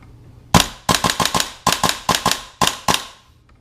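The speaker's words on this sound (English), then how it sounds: "So just to do a test fire of the gun" A WE MK18 Mod 1 airsoft gun test-fired on semi-auto, with about ten sharp, loud, close shots in irregular quick bursts, each a crisp snap with a short decay and no talking.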